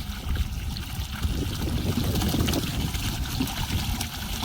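Water runs out of a drip irrigation pipe being flushed of dirt on a farm, a steady close trickle and gush with a low rumbling bed underneath and no talk.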